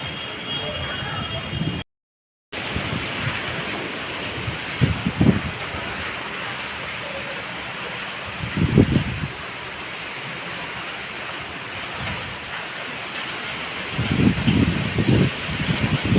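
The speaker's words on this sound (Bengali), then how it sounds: "কেমন জোরে বৃষ্টি, এত জোরে বৃষ্টি ঝড় হচ্ছে" Heavy rain driven by storm wind makes a steady broadband roar with gusting swells. Voices talk intermittently over it.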